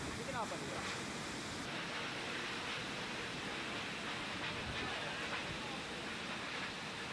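Strong gusting wind sweeping over the village of Ngepung in Nganjuk, East Java, after heavy rain, a constant loud roar and buffeting rush of air on an amateur phone recording, with no voices.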